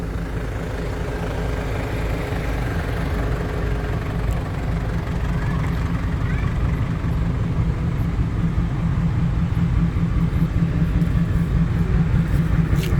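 A car drives along with a continuous low engine rumble and road noise, steady and loud from inside the cabin throughout.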